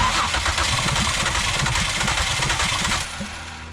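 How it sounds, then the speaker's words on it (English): A 2005 Mazda Tribute / Ford Escape engine with a rough-running misfire condition cranks steadily with a rapid, pulsing starter rhythm for about three seconds, loud and close, then eases off. "I'm going to go key on, and then I'm going to crank it."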